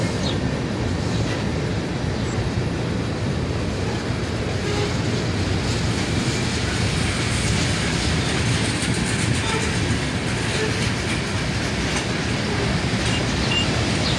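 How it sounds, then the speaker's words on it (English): A long train led by a rebuilt CM44 AC locomotive rolls past close by with a continuous loud rumble and rhythmic clickety-clack of wagons, no voices. "And there it goes, a CM44 AC rebuild."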